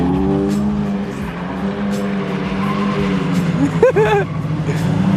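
A loud car drifts on a wet road, its engine droning steadily with a sharp burst of revving and tire noise partway through, while people talk nearby.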